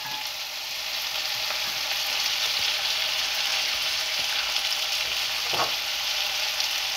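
Peas and onions fry in a pan with a steady, close sizzle and crackle throughout, broken by one brief clink of stirring partway through.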